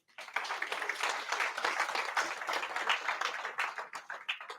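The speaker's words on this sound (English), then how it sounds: "Let's clap hands for that." An audience at a training-session gathering clapping hands, a dense sustained burst of applause from many people that starts abruptly and continues steadily, moderately loud and without talking.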